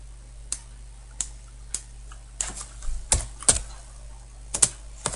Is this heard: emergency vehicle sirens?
no